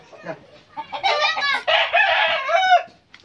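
A chicken squawks and clucks loudly and agitatedly at close range, several harsh cries run together in a flustered burst.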